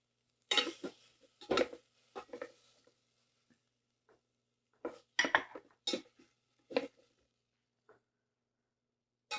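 Peppers are lifted out of an Instant Pot with a utensil for beef fajitas, making a few sparse, close metallic clinks and scrapes separated by quiet pauses.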